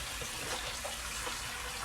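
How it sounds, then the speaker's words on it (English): Water runs steadily from a tap into a bowl of seitan dough made from white flour, a continuous close rushing splash with no talking. "Fill it up with warm or nice and cold water."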